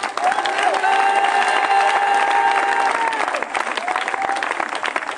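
A church congregation applauds loudly and steadily for several seconds, the clapping dense and close, with a sung or sustained tone carrying above it before the applause thins slightly.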